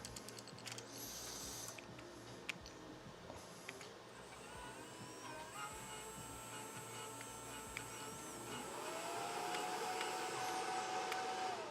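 Cooling fan on a machine heatsink running with a steady, quiet whirring hum and faint mechanical whine that grows slightly louder toward the end, with no talking.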